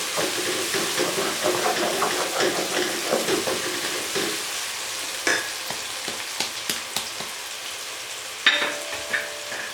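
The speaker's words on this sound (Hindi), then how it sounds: "ये देखिए प्याज हमारा अच्छे तरीके से फ्राई हो गया है, अच्छी तरह मैश हो चुका है।" Mashed onions fry in a pan for chicken roast biryani, giving a continuous crackling sizzle with scattered scraping stirs and a few sharper knocks of the spoon toward the end.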